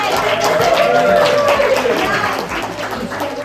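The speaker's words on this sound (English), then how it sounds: "please give him a huge round of applause" A party crowd of runners at a Mumbai Marathon celebration claps in a steady, dense round of applause, loud and close. Chatter and voices run beneath it, and the clapping fades slightly toward the end.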